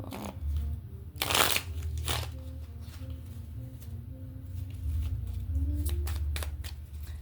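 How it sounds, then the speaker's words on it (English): Close-up tarot card shuffling, with a few sharp riffles and snaps of the deck amid quiet handling noise and a faint low hum. "Okay, let's shuffle."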